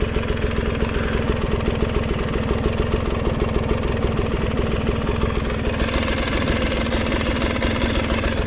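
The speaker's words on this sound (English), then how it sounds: "I could sit here with the clutch pulled in, and as you can see, it's just idling perfectly." A 2022 GasGas EC300 two-stroke dirt bike idles with the clutch pulled in, a loud, close, steady burbling rattle with rapid even pulses throughout and no voices.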